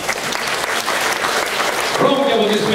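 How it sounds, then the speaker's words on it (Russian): An audience at a stage event bursts into dense, sustained applause, and a voice comes in over the clapping near the end. "Громкие аплодисменты"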